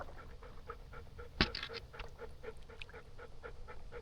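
A dog panting steadily in a canoe on a creek, quick close breaths in an even rhythm, with one sharp knock partway through.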